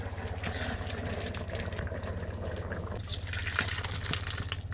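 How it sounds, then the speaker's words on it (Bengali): Rice boiling in a pot in a home Bengali kitchen: a steady, soft bubbling and gurgling that is fairly quiet and close, with a slightly busier spell of bubbles near the end and no talk. "ভাতটা দেখো টকবক টকবক করে ফুটছে"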